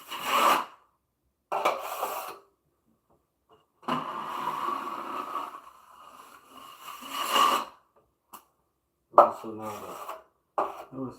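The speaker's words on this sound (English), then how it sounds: "notice that the trowel is in a much sharper angle." A trowel scrapes drywall mud across a wall in several separate rasping strokes of varying length, close and fairly quiet, with a brief spoken word among them.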